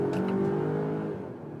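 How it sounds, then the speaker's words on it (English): A Volvo XC90's combustion engine revs hard and climbs in pitch for a moment during full acceleration before fading off, loud and close. "And you also hear the combustion engine then."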